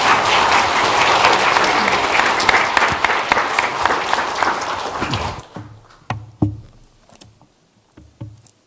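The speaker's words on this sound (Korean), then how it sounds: "큰 박수가." Church congregation giving a big round of applause, dense steady clapping for about five seconds that then thins to a few scattered claps and quiet.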